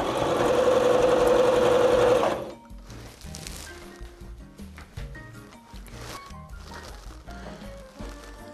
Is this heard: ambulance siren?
no